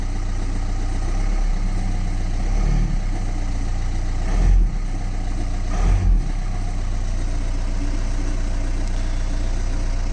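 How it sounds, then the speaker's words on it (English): A 2007 VW Golf 1.9 TDI diesel idles steadily nearby, then gets two short, light revs that swell and fall back to a low, even idle. "let's give it a tiny little rev"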